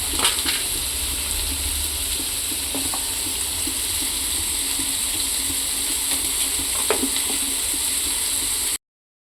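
Onions frying in a pan for mutton curry: a steady, close hiss of sizzling oil with a few faint clicks from stirring, and no voices.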